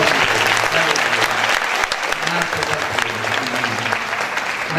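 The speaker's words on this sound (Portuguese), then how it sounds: "Vamos aplaudir Jesus." A church congregation applauding, dense sustained clapping from many hands filling the room at a steady loud level, with some voices mixed in.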